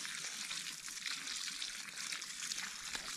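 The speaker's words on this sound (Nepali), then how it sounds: "पानी भनेको यत्रो पाइपबाट हेर न कस्तो प्रेसर आउँछ" Water gushes at strong pressure from a large pipe on a village orange farm, a steady, close, hissing rush that runs unbroken throughout with no voices.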